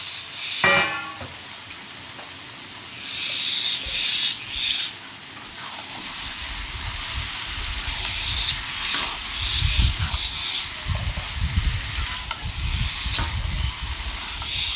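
Potatoes being stirred with prawns frying in a pan for a chingri curry, a steady sizzle with intermittent low scraping and clattering of the spoon, close, with a high insect-like chirping in the background.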